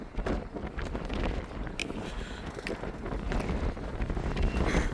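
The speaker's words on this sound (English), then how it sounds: "It's too windy up here." Gusty wind on a rooftop of a steel-frame construction site buffets the microphone in a continuous rough roar, swelling and easing, with faint knocks and footsteps underneath.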